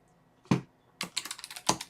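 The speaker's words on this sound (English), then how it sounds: "just type in my stuff." Several quick keyboard keystrokes clatter up close on a computer keyboard while someone types a username and password into a PHP framework's registration form, with a soft isolated tap first, then a brisk run of keys.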